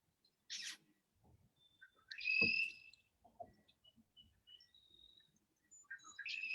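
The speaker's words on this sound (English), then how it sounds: "I can hear the birds today" Scattered bird chirps and short high calls in a quiet outdoor setting, faint and intermittent with small rustles between them.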